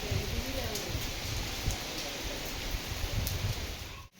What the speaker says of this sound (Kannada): ದೇವಸ್ಥಾನ ನೋಡ್ತಾ ಇರಬೇಕಾದ್ರೇ ಮಳೆ ಬಂತು